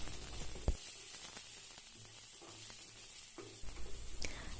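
Sliced onion sautéing in hot oil with cumin seeds, a steady soft sizzle at moderate level with a few brief spoon scrapes and a louder burst near the end.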